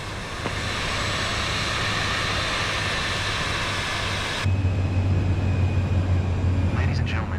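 An airliner in Microsoft Flight Simulator 2024 starts its takeoff roll: a steady, loud broadband engine roar that jumps to a heavier, deeper rumble about midway through and holds there.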